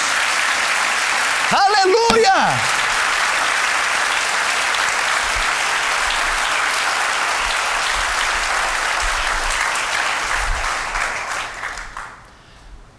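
A church congregation applauding during an evangelistic sermon: dense, steady clapping fills the room for about twelve seconds, with a loud shout near the start, then fades away at the end.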